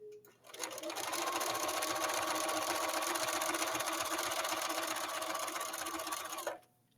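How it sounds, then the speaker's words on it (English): A sewing machine runs steadily for about six seconds, stitching the legs of a pair of shorts together, with a continuous close mechanical whir that starts and stops abruptly. "the short here is kind of going underneath the machine as well"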